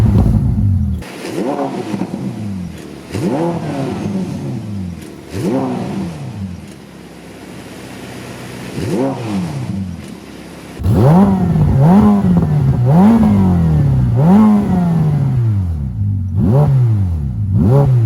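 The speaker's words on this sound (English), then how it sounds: "I'm gonna put a clip in here of the car revving, and let's just hear how this thing sounds." A 2020 Ferrari F8 Tributo engine revs repeatedly in sharp rising and falling bursts, loud and close, with a series of quicker, stronger revs in the second half.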